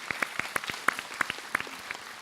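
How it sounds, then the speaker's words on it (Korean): A small audience at a Buddhist monk's question-and-answer talk claps in a short burst of scattered, irregular hand claps, moderately near and fairly soft. "네, 박수."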